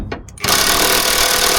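A powerful impact wrench drives a cross-threaded bolt back into a 1984 Toyota AE86 coupe, opening with a few short taps before a loud, continuous close-up hammering rattle.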